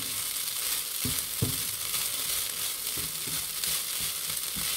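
Garlic rice fries in a pan under steady stirring, a dense close sizzle with repeated dull scrapes and thumps of the spatula at irregular intervals, no voices.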